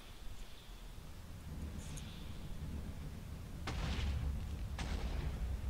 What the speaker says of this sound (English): Evan is going to fire the cannons.